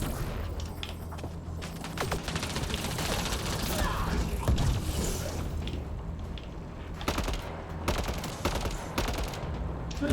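Weapon fire in the sci-fi shooter Mass Effect: Andromeda: repeated bursts of gunshots and mechanical clatter over a rumbling battle background, fairly loud and irregular, with occasional louder volleys.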